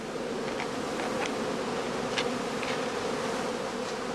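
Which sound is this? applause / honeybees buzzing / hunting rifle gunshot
honeybees buzzing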